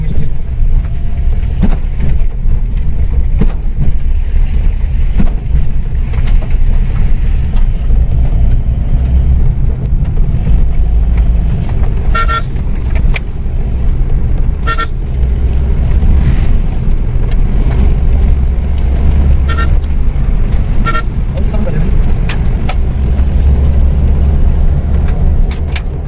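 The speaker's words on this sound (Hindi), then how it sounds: "टायर जब रोटेट हो रहा है बहुत ही स्पीड से तो बजरिया फ्रैक्चर मार रहा है बॉडी पे उसकी आवाज आ रही है" Gravel stuck in tar on a fast-spinning car tyre strikes the car body, giving sharp, scattered ticks and clacks over a steady, loud road rumble and wind noise.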